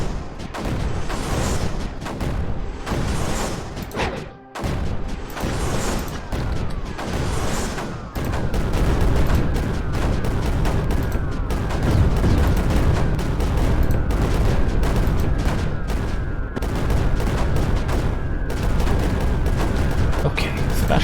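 Sniper fire in the strategy game Creeper World 4: repeated sharp shots and booms in quick bursts, then a dense, continuous barrage of weapon fire with a voice talking now and then.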